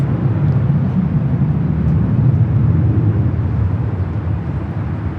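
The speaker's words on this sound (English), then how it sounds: "This takeoff is Delta Airlines 2640 taking off to Seattle on the 737-900ER" A Delta Airlines Boeing 737-900ER jet on its takeoff roll at Los Angeles International Airport, a steady, loud, low rumbling engine roar that holds evenly throughout and eases slightly near the end, with no voices.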